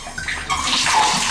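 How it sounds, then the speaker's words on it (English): Hot water gushes from a faucet into a bathtub, a steady rushing splash that swells after a brief start and then holds strong and even. "So we'll turn on the hot water"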